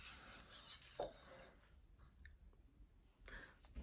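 A person quietly chews and crunches dark chocolate, giving a few soft crisp bites and moist mouth clicks, faint and close with a low background hiss.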